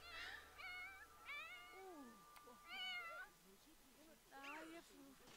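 Cat in The Sims 4 meows repeatedly, a series of rising and falling yowls of varying length, clear and fairly close, with some overlapping meows and no talk.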